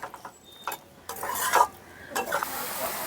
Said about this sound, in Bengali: আলু আর পটলটাকে মশলার সঙ্গে কিছুক্ষণের জন্য কষিয়ে নিতে হবে।